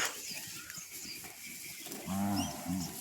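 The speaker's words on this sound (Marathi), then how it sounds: "जबरदस्त हा गावरंगाईंचा गाईंचा कळप" A herd of native desi cows stands close by as one lows in two deep, loud moos near the end, following a stretch of quiet outdoor background.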